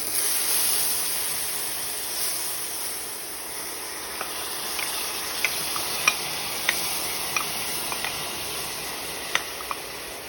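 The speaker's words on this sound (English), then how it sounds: "we're just gonna let this cook and fry in the oil for a couple minutes" A blended pepper sauce mix for Liberian pepper snail fries in vegetable oil in a pot, giving a steady close sizzle with occasional light taps from stirring.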